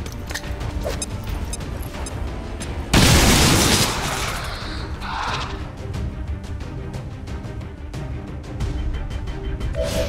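Frag grenade blast in the XCOM 2 combat game (War of the Chosen): a loud, sudden burst hits near the start, then rumbles and crackles away under a continuous busy game soundscape.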